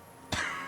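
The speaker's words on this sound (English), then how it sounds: "He coughs once more, then puts his hand on his belly" A single short cough from a character in the Disco Elysium video game, a close, breathy burst that starts abruptly and trails into a faint, hissy tail.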